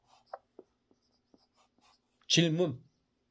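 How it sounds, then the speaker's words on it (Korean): Marker or chalk writing on a classroom board, short faint scratchy strokes spaced through the opening seconds, followed by a louder voiced sound near the end. "자, 질문 이렇게 써요."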